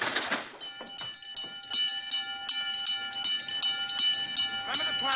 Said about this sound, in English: Can't you get that bell?